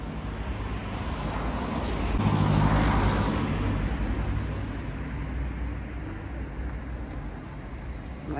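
Cars pass along a street near a church in San Giovanni Rotondo, Italy, a steady wash of traffic noise that swells as a vehicle goes by close, with wind buffeting the microphone.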